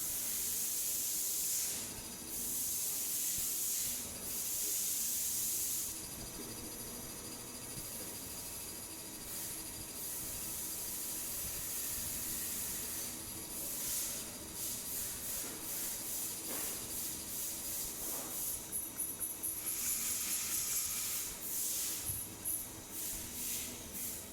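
A CNC machine spindle cutting a surface makes a bright, airy hiss that holds steady for several seconds. It then breaks into a series of pulsing bursts with short gaps between them, heard close and alone.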